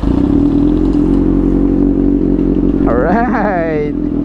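A 2022 Kawasaki ZX6R motorcycle engine idles loudly and steadily up close after a push start, and near the end a voice speaks over the running engine.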